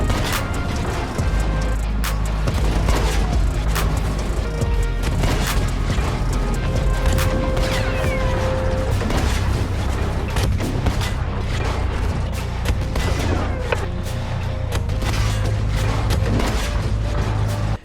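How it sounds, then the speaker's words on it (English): An artillery strike lands during a World War II video game featuring a Tiger tank: repeated heavy booms and crashes hit at irregular intervals over a rumbling battle din. "The Americans call in an artillery strike"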